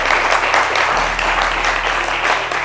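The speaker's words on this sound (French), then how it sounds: "Je vous demande vraiment de l'applaudir" Applause from a school audience at a high school competition final in Côte d'Ivoire, a dense steady wash of many hands clapping continuously over a low hum, loud and unbroken throughout.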